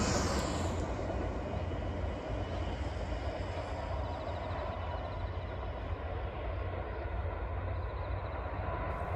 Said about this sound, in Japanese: 素晴らしい田園風景の中を走っていくキハ150。